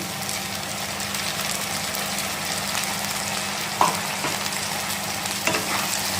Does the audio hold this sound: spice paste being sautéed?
yes